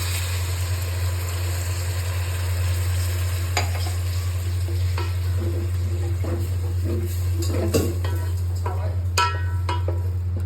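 Chicken biryani masala stirred and frying in a pan, a steady sizzle under a constant low hum with occasional scraping clicks and a faint splash of added water.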